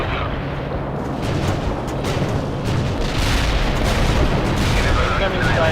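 Artillery fire support strike in the Soviet Assault edition of the war game World in Conflict, heard as a continuous, heavy rumbling barrage of booms and blasts that holds steady and swells slightly toward the end.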